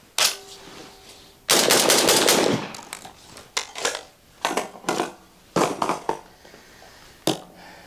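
Tokarev TT-12 12 gauge shotgun firing 34 to 36 gram shells: a long loud blast followed by a series of sharp, close shots in an uneven rhythm, each with a brief decaying tail.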